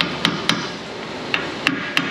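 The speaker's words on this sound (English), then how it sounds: "I'm going to gently take the hammer," A hammer taps a spacer onto the control arm of a seven-lug Ford F250 truck, producing five sharp metallic strikes at close range in an uneven rhythm, two quick ones then three spaced hits, with nobody talking.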